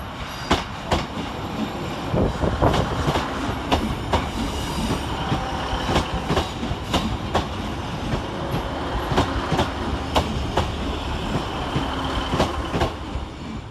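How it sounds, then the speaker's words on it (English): Northern Rail class 150 units 150-148 and 150-123 pull in to terminate at Manchester Piccadilly from Buxton, a steady rumble of engines and wheels with repeated sharp clicks and rail squeals running throughout. "Arriving to terminate with a Northern Rail service off of Buxton is 150-148 and 150-123."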